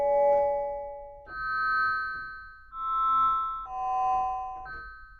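An analog modular synthesizer gives a ring-modulated tone with a lengthened envelope attack. Five metallic, bell-like notes each swell in gradually and then fade, overlapping slightly. The sound is clean and close with no talking.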